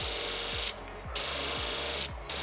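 A metal tube spins on a lathe while sandpaper is held against it, giving a steady broadband hiss over a low motor hum, with two short pauses in the sanding.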